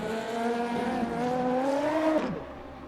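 A race car engine whines and climbs in pitch, then cuts off abruptly as cars spin out in the Le Mans Ultimate racing game, loud and close.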